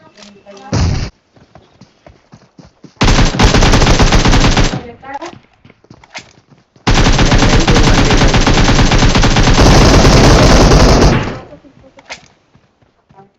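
Automatic weapon fire in PUBG Mobile on the Erangel map, two long, loud sustained bursts of rapid shots, close and harsh, with a short burst at the start and brief thuds between.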